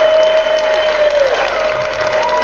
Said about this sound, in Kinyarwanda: ongera uyikomera amashyi